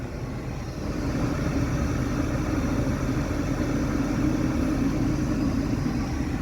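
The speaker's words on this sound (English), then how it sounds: "we definitely got heat blowing out" Steady broadband whoosh of a Lincoln Town Car Mark VI's automatic climate control blower pushing hot air through the vents, a continuous low rushing that swells slightly after the first second and then holds even.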